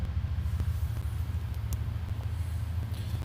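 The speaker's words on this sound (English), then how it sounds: "that is a train on that railway track where we just walked over that bridge" A low, steady rumble of a train passing in the distance on a railway track near a bridge, continuous throughout with a few faint clicks on top.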